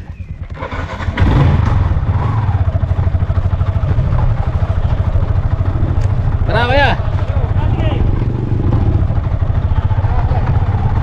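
A motorcycle engine idles and runs steadily at a rocky moto-camping spot on a mountain adventure park, loud and close throughout, with people talking over it.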